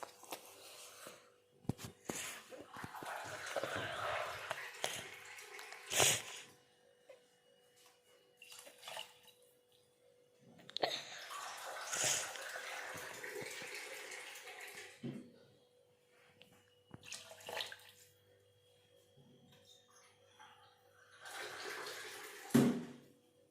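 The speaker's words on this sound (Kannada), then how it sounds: "ಸೊ 4 ಗ್ಲಾಸ್ ನೀರು ಹಾಕ್ತೇನೆ" Water pouring into a pot of rice in bursts, splashing and gushing for a few seconds at a time with quiet gaps and a few clinks between, close by and fairly soft, with no talking.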